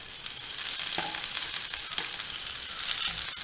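A large chopped onion hits hot oil in a pan for a tomato rice dish, giving a steady close sizzle and crackle with a few soft stirring scrapes, no voices.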